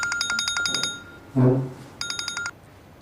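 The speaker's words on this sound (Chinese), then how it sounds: "我接个电话" A telephone rings in two bursts of rapid electronic trills, with a short low thump between them, fairly close and loud in an otherwise quiet room.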